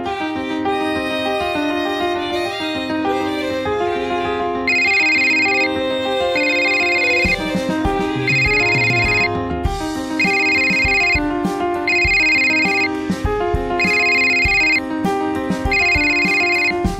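A mobile phone ringtone plays in repeated bright bursts, about one per second, over loud background music in a Marathi TV serial scene.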